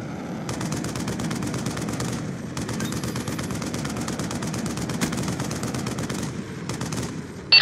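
Gunfire from a VTOL warship in Black Ops 2 keeps up a steady, dense, rapid rattle of automatic shots through the whole stretch, at a moderate distance, with brief gaps and no talk.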